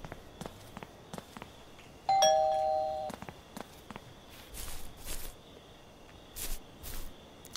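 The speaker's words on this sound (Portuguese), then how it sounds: "Você toca a campainha da pessoa, ela vai abrir a porta." A two-tone doorbell chime rings out clearly at a house in the video game Thief Simulator, followed by soft footsteps and quiet game ambience.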